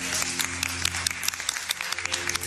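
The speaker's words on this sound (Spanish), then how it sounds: "Un aplauso." An audience applauds steadily with dense, continuous clapping over a low background hum, sounding full and moderately close.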